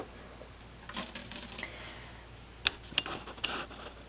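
A strip of washi tape is pulled from its roll at a sewing table while a quilt seam is prepared: a short raspy tearing burst, followed by a few sharp crisp clicks and crackles, close and fairly quiet.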